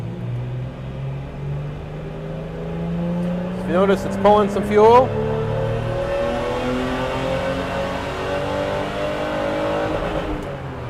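A car engine on a dyno tuned with rusEFI drones steadily and then rises in pitch as it revs hard to the limiter, with someone talking over the loud mechanical roar.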